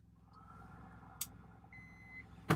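A power inverter plugged into a truck cab's power strip gives a short electronic beep when switched on, a single clean tone heard close against a low engine-like hum, followed by a sharp click.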